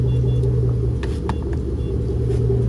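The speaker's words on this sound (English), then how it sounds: "I'm about to take it for the first test drive right quick." A lifted Chevrolet Tahoe on 24x14 wheels with a heavy duty transmission drives along, its engine a close, steady low rumble with faint clicks and rattles on top and no talking.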